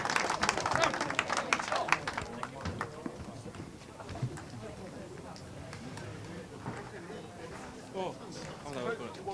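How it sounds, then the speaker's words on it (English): Applause for the TKM Extreme kart finalists at Whilton Mill during a British Kart Championship event, a burst of clapping from a crowd that is loudest at first, then thins into scattered claps under chatter and talk. "Please give a huge round of applause for your TKM Extreme finalists."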